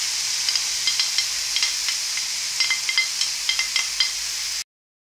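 Courgette added to a hot frying pan with onion, sizzling steadily with repeated light clicks and scrapes of stirring, close and clear, then cutting off abruptly.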